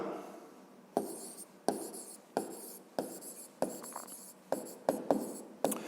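A pen writes in a notebook in quick repeated strokes, each a short scratchy burst starting sharply and trailing off, about a dozen in a row, close and quiet with no talking.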